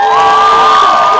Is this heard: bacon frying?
no